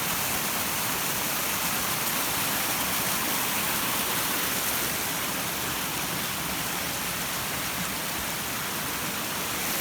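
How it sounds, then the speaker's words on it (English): Rushing water of a mountain stream near Goppenstein, a loud, steady broadband roar of tumbling water close by, continuous throughout with no talking. "I hear water again."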